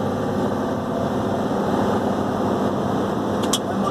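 Steady, loud low rumble of a Mercedes Axor 3344 truck holding back on its engine brake while descending, a constant droning roar heard from inside the cab with no breaks.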